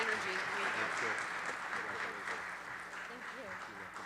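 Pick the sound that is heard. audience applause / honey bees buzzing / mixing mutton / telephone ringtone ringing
audience applause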